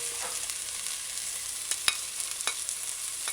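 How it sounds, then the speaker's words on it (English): Seasonings sautéing in a hot pan for Jamaican steamed callaloo give a steady, close sizzle, broken by a few sharp clinks of a spoon against the pan. "allow it to saute"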